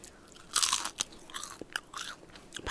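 Someone bites and chews crunchy fried KFC chicken skin up close, a few loud crisp crunches followed by softer chewing crackles over a couple of seconds, with no talking.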